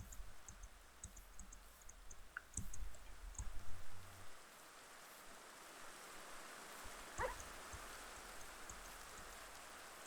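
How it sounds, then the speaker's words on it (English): Rain falls in a forest biome of a video game, a faint, steady patter with scattered clicks and soft drops, swelling slightly for a moment before settling back to a quiet hiss. "You can hear the rain kind of coming and going"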